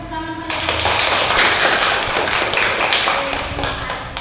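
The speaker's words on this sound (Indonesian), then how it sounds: "Kasih tepuk tangan pada Dewi." Classroom applause from a group of students, a burst of many hands clapping that starts abruptly after a brief moment and continues loud and steady to the end.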